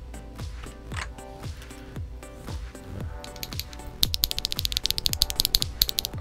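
Keys clatter on a MagicRefiner M31 65% mechanical keyboard with tactile switches and a steel plate, first in slow separate presses, then in a fast, dense burst of typing, close and clear.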